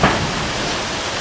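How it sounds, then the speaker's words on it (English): Steady rain falls outdoors, a dense, even hiss of drops continuing without a break and with no voices. "Rain, rain, go away."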